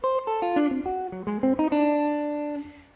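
A quick jazz guitar ii-V-I lick in C of clean single notes runs through a short phrase and resolves onto a sustained final chord tone.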